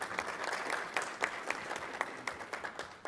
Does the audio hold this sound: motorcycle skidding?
no